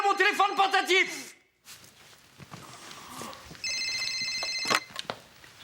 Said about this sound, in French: On tente de communiquer avec moi par le biais de mon téléphone portatif!